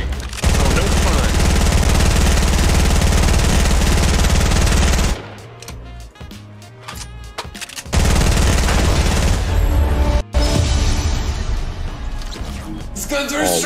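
Rapid automatic gunfire from weapons in Fortnite Battle Royale, including a P90, rattles loudly in long sustained bursts with a brief lull midway, and a voice talks over it.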